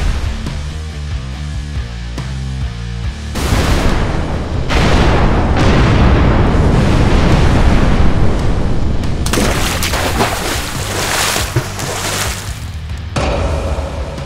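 A series of heavy booming blasts and rumbling bursts, loud and close, overlapping with a roaring, crackling wash of sound and no talking.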